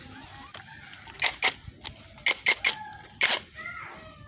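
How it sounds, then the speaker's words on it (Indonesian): Bolts being tightened on a Honda Beat scooter's gearbox cover: a close series of sharp metallic clicks comes in irregular bursts, some paired, against a quiet background. "setelah baut terpasang semua, lanjut dikencangkan."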